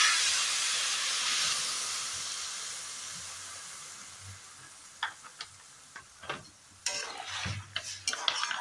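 Water splashed into a hot pan while making white sauce pasta sends up a loud steaming hiss that fades over several seconds, followed by clinking, scraping stirring sounds.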